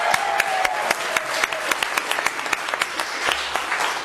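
Scattered applause breaks out at a town council reorganization meeting, with a modest crowd clapping in uneven, distinct claps that thin out over a few seconds in a room.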